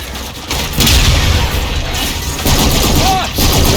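Grenade explosions and gunfire in a video game battle against a boss, heavy booms and crackling bursts of shots layered over one another, loud and continuous, with some faint voices mixed in.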